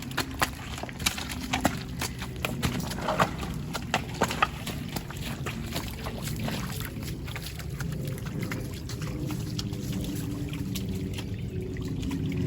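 Hooves of a horse named Zora clip-clopping at a walk near a creek, a steady run of knocks over a constant background wash of flowing water, moderately close and without talk.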